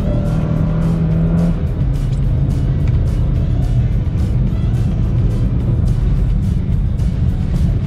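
Cupra car drifting on a snowy road: a loud, steady engine drone with shifting revs and tire noise, close and continuous throughout, with no voices over it.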